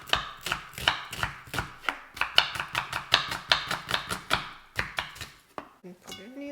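An onion is chopped with a knife on a cutting board, a rapid run of sharp, close knocks in a steady rhythm that slows and stops near the end.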